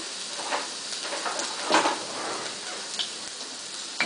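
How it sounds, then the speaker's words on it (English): Ginger and garlic cooking slowly in oil over very low heat in a wok, giving a faint, steady crackling sizzle with a few small pops. "just add your ginger and garlic right away"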